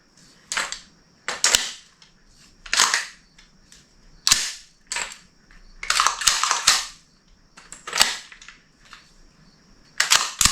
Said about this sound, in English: Just a nice tactile pull there. This trigger feels really good.